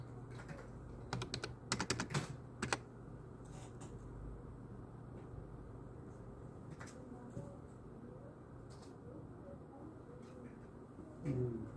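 Keystrokes on a computer keyboard, with a quick cluster of taps and a firmer enter press early on, then sparse faint clicks under quiet talk in a room.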